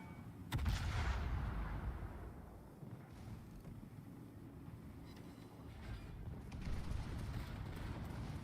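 Brandenburg warship in World of Warships firing its guns: a sharp, booming salvo near the start, followed by a rolling rumble and distant follow-up reports under steady engine and sea noise.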